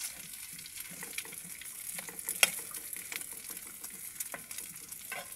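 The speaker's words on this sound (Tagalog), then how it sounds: "Ininit ko siya, pinirito ko diretso, tapos nilagyan ko ng mga sili para medyo manamis-namis." Horse meat frying in a pan with chili peppers, a steady close sizzle with light stirring scrapes and small crackling pops, no voices over it.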